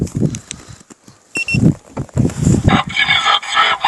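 A talking car alarm responds as a car is unlocked, giving short electronic chirps and tones mixed with recorded voice phrases at close range.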